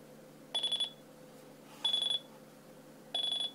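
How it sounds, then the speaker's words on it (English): A Sony Dream Machine alarm clock buzzer sounds in three short, evenly spaced bursts of a bright electronic tone, each with a slight warble, with quiet gaps between. "There it is, that's the buzzer."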